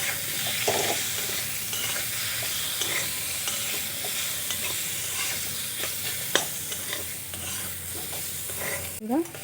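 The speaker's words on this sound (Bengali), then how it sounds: "সব কিছু ভালো করে আরও কিছুক্ষণ মিশিয়ে নেব" Tomato, onion and spices frying in a pan while being stirred: a steady, close sizzle runs throughout with scraping spatula strokes, and no one speaks.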